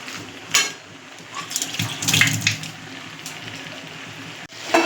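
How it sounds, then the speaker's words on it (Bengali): A little water goes into a pan of potato curry cooking with coconut milk and white mustard over a raised gas flame, giving uneven splashing bursts and sizzling surges over a soft frying background. "এবার আমি দিয়ে দেবো জল, অল্প দেবো"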